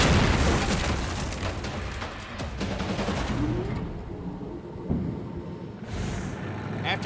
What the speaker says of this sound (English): The tank's 120mm shells hit their marks.